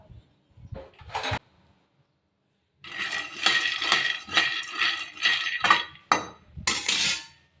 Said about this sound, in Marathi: मस्त बारीक आचवर आहे ना शेंगदाणे शेकून घेते